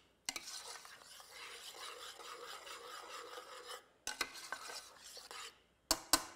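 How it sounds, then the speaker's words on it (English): Tomatoes and cooked vegetables sauté in a stew pot, giving a bright, rough hiss of stirring and scraping that stops abruptly twice and resumes, with a few sharp spoon knocks near the end. "we're gonna stir that in to our cooked vegetables. And just gonna let that saute for a couple more minutes"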